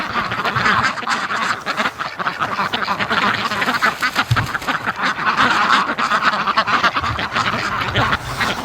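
A flock of farm ducks quacks constantly during the morning rush on a cold, clear day by a frozen lake. The loud, overlapping honks and quacks come close and continuous.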